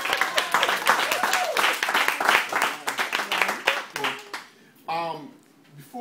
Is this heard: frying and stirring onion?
no